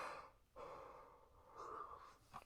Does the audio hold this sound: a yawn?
yes